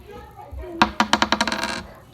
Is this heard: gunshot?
no